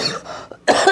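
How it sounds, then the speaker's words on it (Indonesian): Someone nearby gives a couple of harsh, loud coughs in quick succession. "ada yang batuk"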